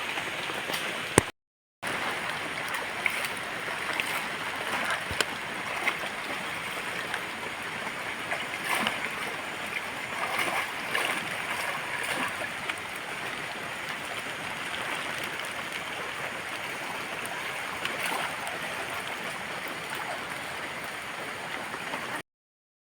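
Floodwater from a swollen river pours into a plantation during rain, a steady broadband rushing and splashing that carries on without pause, with scattered louder splashes. A brief gap of silence occurs near the start. No one speaks.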